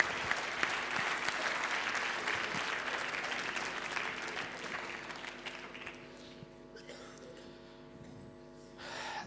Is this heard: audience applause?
yes